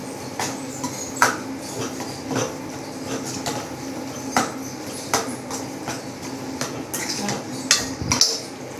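Chili powder stirred into onions in a pan for an egg masala fry, with a spoon clinking and scraping against the pan in irregular, close taps and rattles, and no talking.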